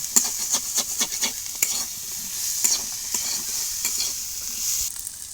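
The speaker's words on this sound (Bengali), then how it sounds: "এবার সবগুলো একটু ভালো করে ভেজে নেব।" Shrimp frying in a pan with onion, garlic and green chillies for shrimp kachori, giving a steady loud sizzle over the whole stretch with repeated scraping strokes of a spatula stirring against the pan.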